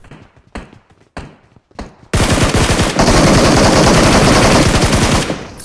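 Loud, sustained automatic gunfire in a battle royale video game: a few separate sharp shots first, then a long continuous rapid burst close up that dominates before ending abruptly.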